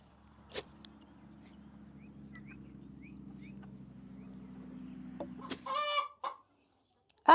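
A backyard hen with two different colored eyes clucks close by in a short burst of sharp, choppy calls near the end, after a stretch of low steady background hum and a few faint clicks.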